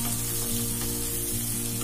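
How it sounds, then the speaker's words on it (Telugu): Masala for a chicken gravy frying on a lowered stove flame, a dense, even sizzle close up with a low steady hum beneath, uninterrupted throughout. "ఇప్పుడు స్టవ్ తగ్గించుకొని 1-3 మినిట్స్ వరకు మనం ఫ్రై చేసుకుందాం"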